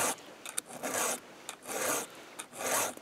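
A hand file rasps across a battery chainsaw chain in four steady strokes, each a rough scraping pass separated by short pauses.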